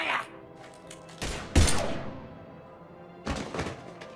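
Gunfire in the Mass Effect 3 video game: a few heavy, booming bursts of shots, each about half a second long, separated by quieter gaps with low game ambience between them.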